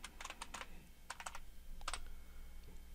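A password is typed on a computer keyboard while installing software on Linux Mint 17.1 in VirtualBox, and the quiet keystrokes come in several quick clusters over a low steady background hum.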